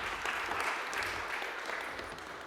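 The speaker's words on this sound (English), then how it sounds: "A round of applause." Dense, steady applause from a startup conference crowd, a continuous wash of clapping with no pauses, moderately distant.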